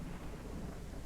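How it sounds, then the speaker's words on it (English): A low rumble of thunder from a lightning strike during a rainstorm in the space game Spacebourne 2 rolls briefly under a wash of rain, quiet and muffled, with no voices. "I swear I just got struck by lightning"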